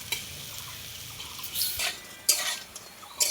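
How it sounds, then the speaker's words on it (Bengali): Lentil fritters being turned in a frying pan: a soft background sizzle broken by a few sharp scrapes and clinks of a utensil against the pan, with no voices. "আমি বড়াগুলো উল্টে দিচ্ছি খুব সুন্দর করে, দেখুন উল্টে পাল্টে খুব সুন্দর করে লাল লাল করে ভেজে নেব"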